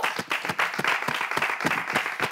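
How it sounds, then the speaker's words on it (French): A TV studio audience applauds in a brisk, lively burst of many hands clapping, with dense, irregular claps close by and no voices over them. "On applaudit pour vous."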